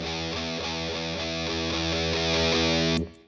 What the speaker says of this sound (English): you got a lot of raunchy, hard rock sounding distortion